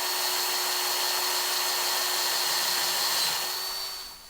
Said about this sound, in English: I mark out the centre and then I can drill a 6mm hole through